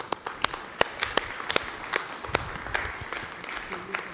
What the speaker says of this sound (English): A big round of applause for the Minister.